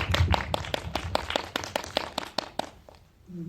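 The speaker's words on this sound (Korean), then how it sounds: "박수 부탁드릴게요" Scattered rhythmic handclaps from a small audience, sharp and close, thinning out toward the end.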